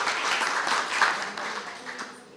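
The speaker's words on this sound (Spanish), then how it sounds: "le mandamos un aplauso a ella" Audience applause at a formal ceremony for the president of an institute, a dense wash of clapping from many hands that holds steady, then gradually thins out.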